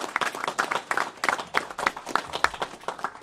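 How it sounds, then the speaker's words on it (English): A modest audience at a governor's news conference on severe weather response claps steadily, a busy texture of individual hand claps at medium distance and moderate loudness. "The man deserves a round of applause."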